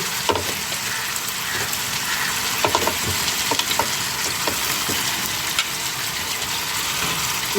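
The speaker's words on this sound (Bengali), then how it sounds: "গোস্তগুলো দিয়ে কষিয়ে নিচ্ছি।" Broiler chicken pieces fry hard with turmeric, chili, garam masala and cumin, giving a constant loud sizzle broken by light scraping clicks of stirring.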